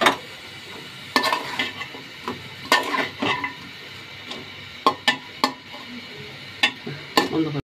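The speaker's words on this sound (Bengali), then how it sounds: "ভালো করে কষিয়ে নিতে হবে।" Spices stir-fried in a pan for a Bengali greens dish, with a series of sharp spatula scrapes and knocks over a low sizzle, close and fairly loud, irregularly spaced.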